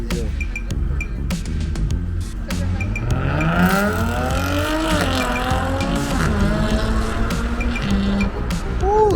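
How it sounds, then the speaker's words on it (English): A Jaguar car engine revving hard outdoors at a BMW race day, rising and falling in pitch as it pulls away, with tire squeal and a loud sustained exhaust note. "Ooh, that Jag sounds beautiful."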